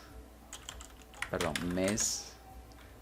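Light clicking keystrokes on a computer keyboard come in short irregular bursts, close and fairly quiet, while someone speaks over part of the typing.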